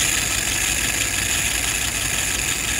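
A Mat's WO 636SA engine runs at a steady idle, a continuous close, even rumble with no talk over it.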